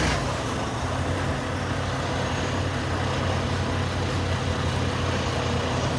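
A 2023 Volvo VNL 860 truck engine idles steadily and close by, a constant low rumble with broadband hum that holds evenly throughout with no speech.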